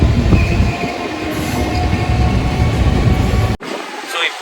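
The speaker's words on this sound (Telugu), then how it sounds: "ఇక ఒక ట్రైన్ పోతుంది," A passenger train passes close by with a loud, continuous rumble of wheels and a thin metallic squeal, then abruptly cuts off near the end.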